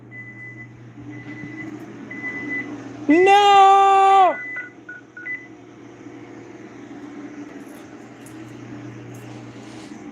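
A loud alarm beeps in one sustained electronic tone for about a second against a steady low hum, with someone shouting in alarm around it.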